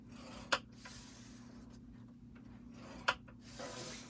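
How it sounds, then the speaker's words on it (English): Paper is scored on a scoreboard with soft, quiet rubbing strokes, and two sharp clicks stand out against a low steady hum. "I'm going to go ahead and cut or score on this piece"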